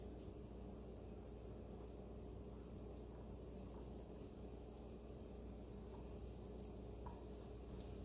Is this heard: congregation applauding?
no